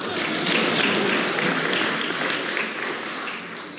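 An audience claps steadily throughout at a talk event, a dense, even wash of applause at moderate level with no voices above it.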